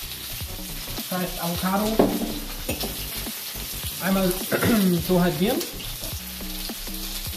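Bell pepper and cauliflower fry in a pan with a steady sizzle that fills the background while a person speaks over it.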